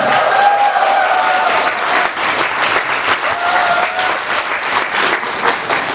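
Guests at a wedding ceremony in a wedding hall applaud loudly and continuously, a full crowd clapping with slight swells in intensity.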